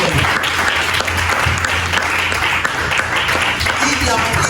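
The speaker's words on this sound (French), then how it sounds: "Est-ce qu'on peut acclamer pour cette parole?" Church congregation at a Sunday service applauding, dense sustained clapping from a crowd filling the room, loud and steady with voices mixed in.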